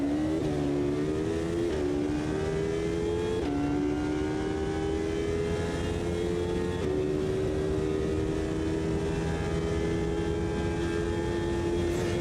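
A 2005 GT racing car engine in Automobilista 2 drones steadily at high revs on the Mulsanne, pitch climbing and dropping at each gear change, loud and continuous with a slightly synthetic tone.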